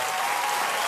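A studio audience applauds during a German late-night television show, a brief dense burst of clapping filling the moment.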